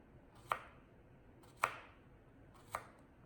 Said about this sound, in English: Chop our cucumber, our cook's knife, our bear claw, and through we go, nice and evenly, slowly